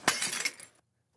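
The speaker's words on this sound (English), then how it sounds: "Suddenly, she cracked open the jar" A sealed jar of expensive perfume cracks open with a short, bright glassy break and clink, a single sharp burst that cuts off into silence.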